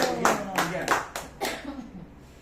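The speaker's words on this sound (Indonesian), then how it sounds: "Tepuk tangan dulu dong, tepuk tangan." Short bursts of clapping from an audience at a marketing presentation, about five uneven rounds of applause in quick succession that fade out toward the end.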